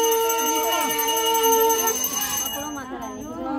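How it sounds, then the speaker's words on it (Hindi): A hand bell rings with bright, sustained metallic tones at a Hindu goddess procession, then the ringing turns more wavering as voices chatter nearby. "शंकर और घंटी लेके आजा"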